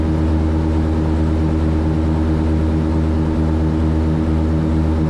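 A Tecnam P2006T twin-engine propeller plane flies on one engine while its left engine is shut down. Heard from inside the cabin, the remaining engine gives a loud, steady propeller drone with a rough, pulsing hum and no talk.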